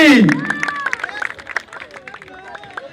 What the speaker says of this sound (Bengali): এদের জন্য বড় করে একটা হাততালি